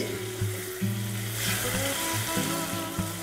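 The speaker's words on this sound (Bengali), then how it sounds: "খুবই হালকা ফ্রাই করতে হবে, জাস্ট টস করার মতো।" Paneer cubes with kadai masala fry lightly in a kadai and get tossed, giving a bright continuous sizzle close by with repeated low scraping and knocking as the pieces are turned.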